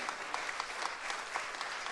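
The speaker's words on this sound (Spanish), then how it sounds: "¿Cuánto dan un aplauso al Señor por la iglesia evangélica latina?" Congregation applauding in a Latin evangelical church celebration, a steady wash of many hands clapping with faint crowd murmur, quiet and continuous throughout.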